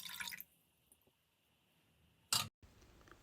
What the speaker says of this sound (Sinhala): ඊළඟට මේ කන්ඩෙන්ස් මිල්ක් ටින් එකේ ප්‍රමාණයටම මම වතුරත් එකතු කරගන්නවා.